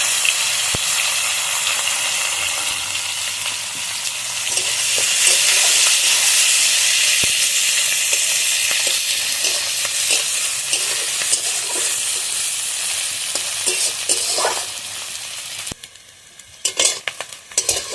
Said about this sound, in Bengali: ওই তেলের মধ্যেই দিয়ে দেবো কেটে রাখা পেঁয়াজ কাঁচা লঙ্কা